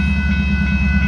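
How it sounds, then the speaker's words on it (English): A northbound Union Pacific mixed freight train moving, a close, loud, steady low rumble and hum with faint rhythmic rail clatter throughout. "the northbound Pacific train is gonna move."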